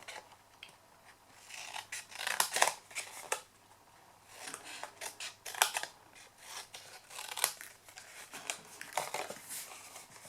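Scissors snipping through card stock while papercrafting a stamped Mother's Day card, with repeated close, crisp cuts in short bursts alongside faint paper rustling and rotating of the card, and no talking.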